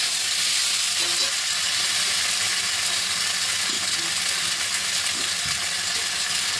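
Ginger paste is fried with tomato, potato and green chili in a pan, making a dense, continuous hiss of sizzling with a few faint stirring knocks, no talking.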